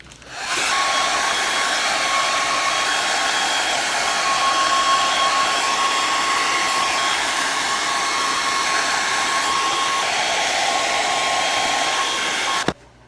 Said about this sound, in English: you're not going to be able to hear me over the hair dryer